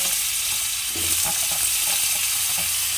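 Potatoes fry in a pan with a steady, loud hissing sizzle that runs throughout, with faint stirring scrapes underneath.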